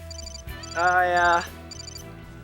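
A mobile phone ringtone plays a short repeating melodic phrase, with a louder sustained burst in the middle, while a person briefly speaks over it.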